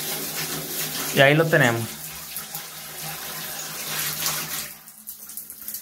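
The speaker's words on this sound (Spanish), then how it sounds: "podemos abrir la llave de nuestra regadera" Water from a home shower head runs steadily after the faucet is opened during a plumbing repair of shower valve handles, a continuous hiss that carries on under a brief spoken phrase and thins out near the end.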